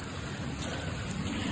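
Steady rain falls at a state park on a muddy, wet day, a dense even hiss of drops with no talking and no breaks.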